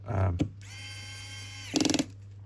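A torque-limiting screwdriver set to about 4.5 works the small screws of a Samsung A54 phone during a battery replacement, giving a close, quick burst of about five light ratcheting clicks after a steady motor-like whine.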